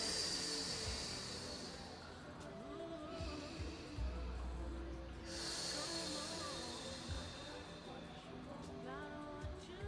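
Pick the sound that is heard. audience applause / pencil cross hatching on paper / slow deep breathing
slow deep breathing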